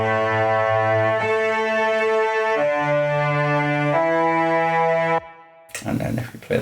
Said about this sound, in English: And then we've got a cello which sounds like this.